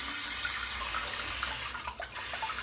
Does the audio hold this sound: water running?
yes